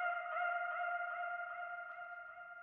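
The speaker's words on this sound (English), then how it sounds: "you can hear a vocal at the beginning with a delay effect on it" A sustained sung vocal tone with echoing repeats trailing behind it, clean and alone, slowly fading.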